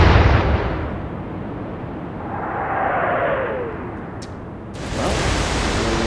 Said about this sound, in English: And we fire an 8-inch shell.